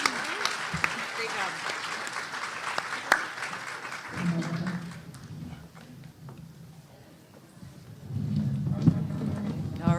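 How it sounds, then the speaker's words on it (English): An audience applauds at the close of a student talk at a summer institute event: dense clapping for about four seconds, then people talking with bursts of clapping returning near the end. "another round of applause"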